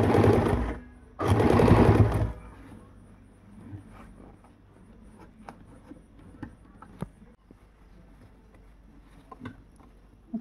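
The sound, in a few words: sewing machine stitching elastic onto sharara pants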